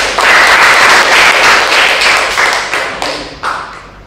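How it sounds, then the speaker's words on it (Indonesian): An audience at a visual communication design university lecture breaks into loud, close applause, a dense burst of clapping that tapers off with a few scattered final claps. "Oke, tepuk tangan dulu dong."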